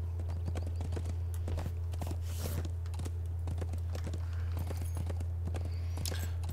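Hooves of a slow, heavy war steed clip-clop in a steady walking rhythm through Eastern Rohan in a video game, crisp repeated strikes over a low constant hum.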